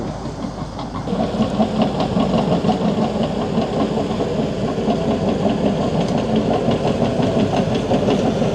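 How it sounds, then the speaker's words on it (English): A digger works the sand at a motocross circuit, its engine a steady, loud, rumbling drone with a knocking texture that swells after the first second and holds near and constant, with no talk over it. "Digger there. Digging up the sand."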